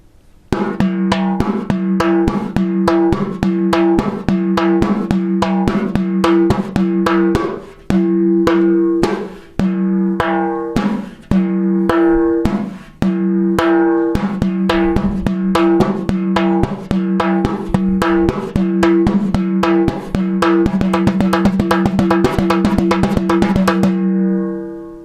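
Frame drum strokes in a steady, fast pattern, sharp slaps mixed with ringing open tones, played loud and close for a long stretch before stopping.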